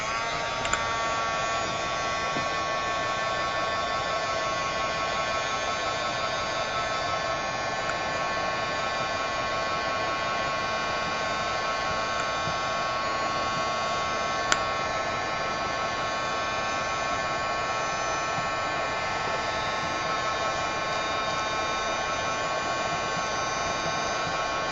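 A heat tool runs steadily for the whole stretch, heat-setting paint on an altered craft piece: a loud, even blowing whir with a constant hum and one brief click near the middle.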